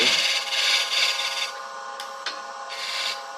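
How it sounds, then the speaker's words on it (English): Woodturning scraper taking a corner off a turned box on a lathe, giving a close, raspy scraping with a steady hum and a few short pulses and clicks, no talk. "I'm gonna use this scraper here. And just take off that little corner."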